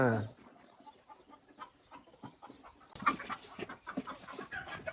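Hens cluck and murmur close by in a steady scattered chatter, with a busier farmyard bustle growing louder in the second half.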